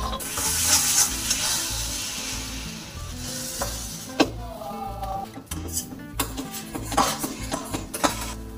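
Thick spice paste being stirred and scraped around a steel wok, the metal spatula giving a series of clattering scrapes and knocks over a steady low hiss, close and fairly loud.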